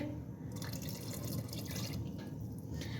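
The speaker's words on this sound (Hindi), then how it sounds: "2 से 3 चम्मच इसमें पानी के डाल देंगे" Water spooned into Afghani egg korma with fried eggs in a pan, a soft trickling and dripping splash, close and fairly quiet, with no talking.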